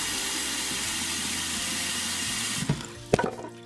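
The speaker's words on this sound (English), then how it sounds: "We're going to fill them with water, cold water." Cold tap water runs steadily into a glass or plastic bowl of dry beans, a loud continuous gush that ends with a few knocks and clunks.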